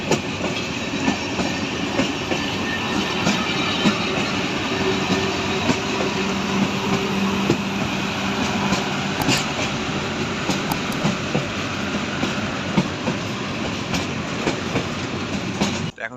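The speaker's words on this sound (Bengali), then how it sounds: "সান্তাহার থেকে ট্রেন ছেড়ে দিল, এখন যাচ্ছি আমরা।" Drutojan Express passenger train pulling out of Santahar station in Bangladesh, a steady loud rumble of rolling carriages with rhythmic wheel clatter throughout, heard from on board.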